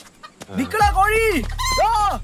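A chicken clucks and squawks loudly up close, several rising calls in quick succession over a low hum.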